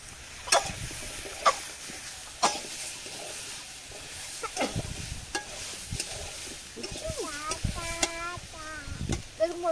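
Potatoes stirred into shing (stinging catfish) frying in a pan, a soft steady sizzle broken by several sharp scraping clacks of a spatula against the pan, with a bird chirping faintly in the background.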